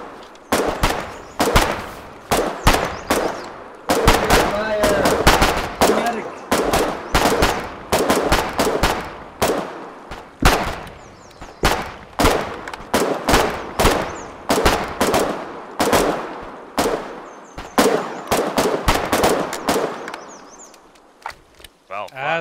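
Rifle and machine gun fire in the war game Foxhole: sharp separate shots and quick clusters crack repeatedly, loud and close, over a long uneven exchange.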